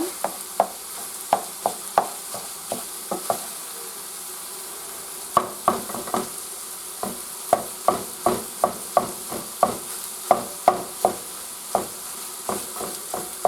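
Meat is broken up and stirred in a hot pan of fat to start a gravy. A utensil scrapes and taps against the pan in irregular bursts over a low, steady sizzle.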